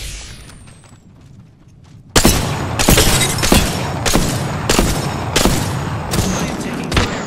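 Loud video game gunfire in Apex Legends starts abruptly after a quiet lead-in, a string of close, heavy shots and impacts repeating at a steady, rapid pace for several seconds.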